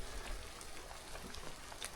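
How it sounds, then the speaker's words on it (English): Steady rain falls in Fiordland, a dense, even patter of drops hitting surfaces nearby, with no voices. "the rain's set in pretty good right now"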